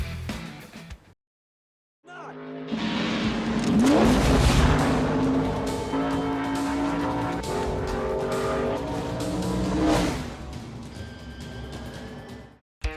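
1966-era Formula One race cars, one engine rising in a loud, sustained high-pitched wail as it passes close, after a short silence, then fading at the end.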